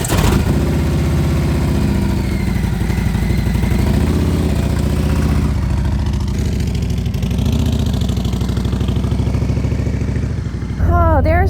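A motorcycle engine idles with a steady low throb, revs briefly and settles, holding close and continuous before pulling away at the end.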